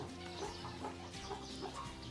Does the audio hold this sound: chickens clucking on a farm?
yes